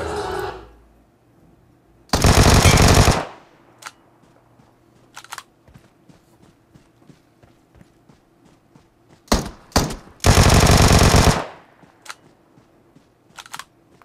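Gunfire in the Free Fire battle-royale game: two long, loud bursts of automatic fire, the second preceded by a couple of sharp single shots, with scattered quieter game clicks and thuds between them.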